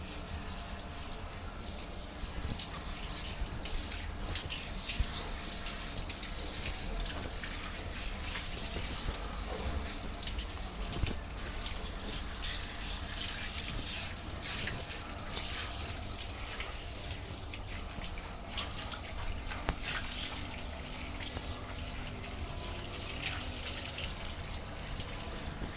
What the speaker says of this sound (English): Rinse that conditioner off of you.